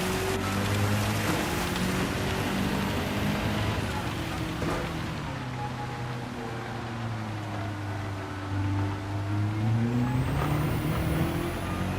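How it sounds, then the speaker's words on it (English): Steady rain hiss during a Gran Turismo 7 race at Fuji, with a low engine drone and shifting car tones running continuously underneath throughout. "It is definitely raining"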